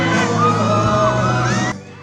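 A crowd at a pageant coronation night cheers and yells loudly for actor Rafael Rosel, a dense sustained roar of whoops and shrieks that cuts off abruptly near the end.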